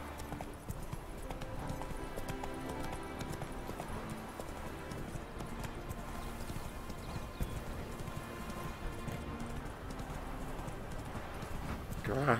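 Roach the horse galloping in The Witcher 3: Wild Hunt, a continuous rhythmic drumming of hooves close up, with game background sound underneath.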